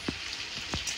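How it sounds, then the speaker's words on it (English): Dry rice is tipped into a pot for jollof rice, a soft grainy pouring hiss with a few small impacts as the grains land. "So you just want to tip the whole rice in."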